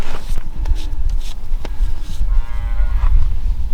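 A single drawn-out, low cow-like moo rises outdoors in a wooded border area, set among rustling and footstep noises close to the recorder.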